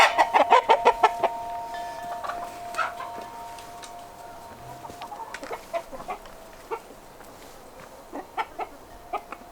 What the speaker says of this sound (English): Naughty chickens.